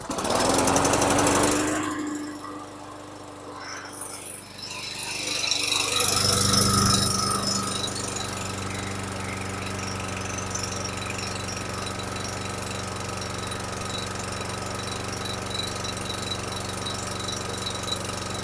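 A 2012 Lawn Boy lawn mower engine bursts loudly to life and then settles into a steady, close droning run with a constant rough hum, and no one speaks.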